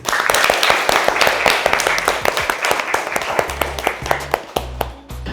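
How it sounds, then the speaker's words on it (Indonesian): Audience clapping hands at an Indonesian academic presentation event, a dense run of sharp claps sustained throughout, fairly loud and close, with some low background hum and faint voices mixed in. "Oke, kita tepuk tangan dulu."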